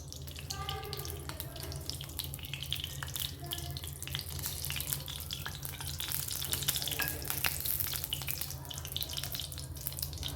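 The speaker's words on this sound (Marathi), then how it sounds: "कढई आपली छान गरम झालेली आहे तर त्याच्यामध्ये आपल्याला साधारण एक दीड पळी तेल टाकून घ्यायचे" Continuous loud sizzling of food frying in a hot wok with oil, crackling and spitting steadily throughout, with stirring and clinks close by.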